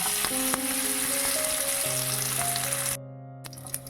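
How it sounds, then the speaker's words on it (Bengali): Cashews frying in a little oil in a pan give a bright steady sizzle with a few clicks, then the sound cuts off abruptly, leaving quiet with faint tones. "কতগুলো কাজু আমি রেখে দিয়েছিলাম এগুলো আমি একটু তেলে ভেজে নেব"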